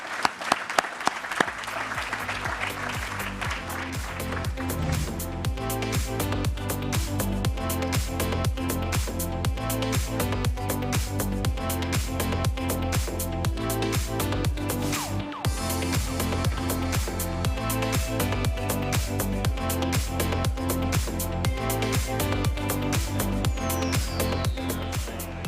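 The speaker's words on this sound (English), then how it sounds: "I want to ask you to give a round of applause to our panel members." Audience applause for panel members at a housing summit, a steady dense clapping that rises in the first couple of seconds and holds at a constant level throughout, with no talk over it.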